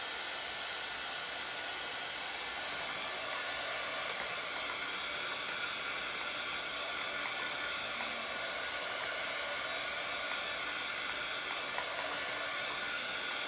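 A hair dryer blows steadily on chalk paste on a bistro spinner, a continuous close, even airy roar that runs unchanged throughout with no talking.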